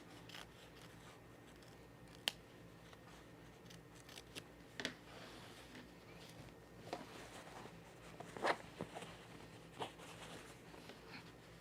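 Scissors snip quietly through the fabric seam allowance of a Cashmerette Auburn blazer, a few sparse cuts with faint rustling of cloth in between, close and soft in a quiet room.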